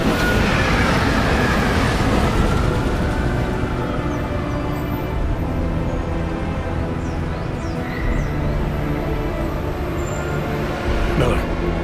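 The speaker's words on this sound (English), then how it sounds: "Just getting off the train now." A train arrives in the video game Deus Ex: Mankind Divided: a loud, steady rumble and rolling rattle with some screeching, filling the whole stretch.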